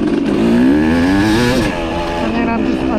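Motorcycle on the Wolf track at Prairie City during an SVRA race day, engine climbing in pitch through high revs then easing off, a loud close drone with wind noise and a voice talking over it.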